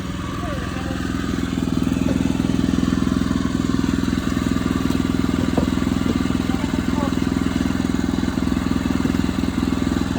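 A HECHT 2650 dumper's engine runs loudly and steadily nearby with a rough, pulsing idle as the machine is put into reverse, while people talk over it.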